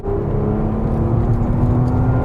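A Porsche Cayenne engine idles smooth and muted, a steady low hum with a faint throaty tone held evenly throughout.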